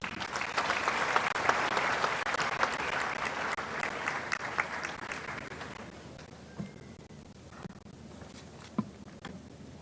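A large audience at a university congregation ceremony at KNUST applauds a registrar; full, busy clapping carries on for several seconds, then thins and fades to a few scattered claps and quiet room sound.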